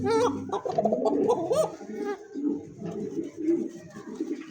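A Danish king cocka pigeon cooing nearby in repeated throaty, rolling calls with brief pauses between phrases, heard clearly and close.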